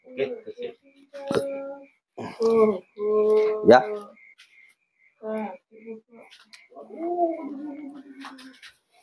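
Pigeons coo in soft, throaty bursts up close, with children's voices chattering in between.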